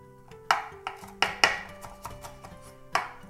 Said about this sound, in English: just some rough chops